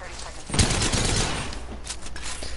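Artillery strike in the video game Apex Legends: a burst of heavy, overlapping explosive booms erupts after a brief lull, then a sustained rumbling barrage continues with scattered impacts, loud, with faint voices underneath.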